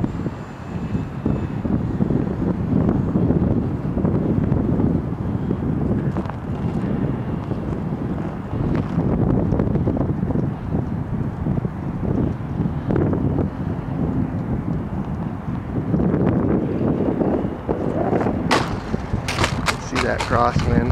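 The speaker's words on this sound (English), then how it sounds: "See that crosswind now. It's really blowing good" A strong crosswind buffets the microphone in gusty, rumbling waves throughout, while an FMS G Kemy RC trainer plane flies somewhere out in the weather. A voice talks intermittently over the wind noise.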